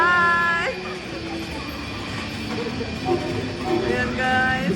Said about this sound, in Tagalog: sasakay na ako ng train